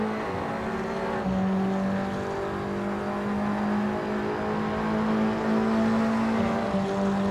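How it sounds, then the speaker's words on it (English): TCR touring cars race at Monza in a TCR Europe sim racing game: steady, loud engine drones with shifting pitch as several cars run close together in a slipstream, continuous throughout with no talk. "And Mora down the inside of Brichet then to take the position"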